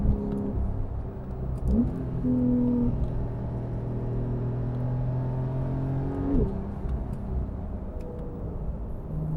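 A 2019 Porsche 911 GTS coupe with a flat-six engine under way on the road, a steady low drone with smooth rising and falling tones as it accelerates and shifts, heard from inside the car and without speech.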